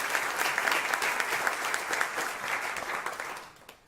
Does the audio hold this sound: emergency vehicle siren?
no